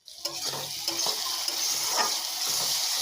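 Steady sizzle of a ginger, cumin and chilli spice paste frying in a pan, with scraping stir strokes of a utensil cutting through the hiss at close range.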